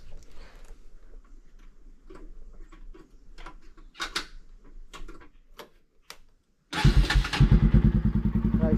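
A Bajaj NS200 motorcycle fitted with an aftermarket Akrapovic R1M exhaust starts in neutral: faint ticking and clicks come first, then after a brief silence the engine fires into a loud, close, rapidly pulsing idle.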